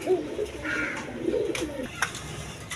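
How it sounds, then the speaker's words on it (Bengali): Red Ghorra pigeons, a pair sold with eggs, coo in low throaty rolls, several calls close by with light rustling between them. "গররা কবুতর"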